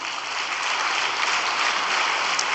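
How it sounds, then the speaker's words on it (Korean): Assembly audience at a church gathering applauds a special circuit minister, a continuous broadband wash of clapping, loud and evenly sustained throughout with no voices over it. "박수 한번 올려드립시다."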